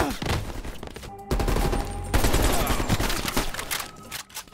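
Gunfire in the video game Call of Duty Black Ops Cold War, loud close bursts of rapid shots in several volleys with brief pauses between them, dense and chaotic, with no voices.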